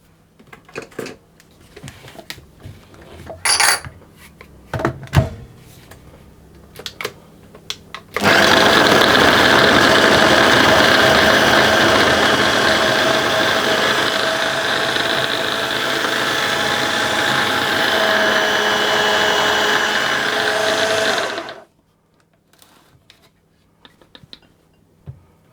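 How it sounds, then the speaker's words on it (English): An electric food processor whirs loudly and steadily for about thirteen seconds, blending a pastry mixture for a peach tarte tatin to coarse crumbs, after softer handling clatter, then stops abruptly into near silence. "I'm going to process that until the mixture resembles a sort of coarse breadcrumb like texture."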